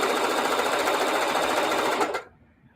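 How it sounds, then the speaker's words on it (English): A sewing machine runs at a steady, loud whir while stitching around the edges of scrappy string-pieced fabric, then stops abruptly and leaves near silence. "I'm just going to go around the edges and make a some nice little stitching"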